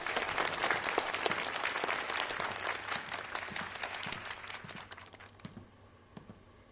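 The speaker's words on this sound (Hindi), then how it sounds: "तालियां।" Sustained applause from an audience welcoming a violinist, dense steady clapping that holds loud for several seconds and then tapers off toward the end.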